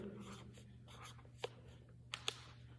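Pen writing by hand, with soft scratchy strokes in short bursts and a couple of sharper taps, quiet and close over a low steady hum.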